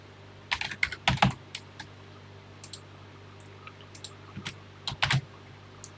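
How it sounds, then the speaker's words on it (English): Keys clatter on a TI home computer keyboard as a BASIC program is typed in: quiet, close clicks in irregular short bursts separated by pauses, with no talking. "Type it as written in the magazine here."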